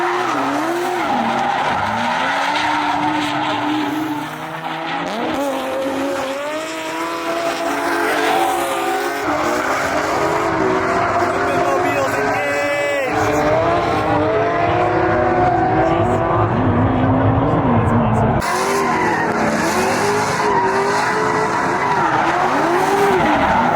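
A GV Drift NASCAR-style RC circle track car laps a track, its engine whining and revving as the tires squeal and skid repeatedly through turns, loud and sustained with shifting pitch and occasional quieter gaps.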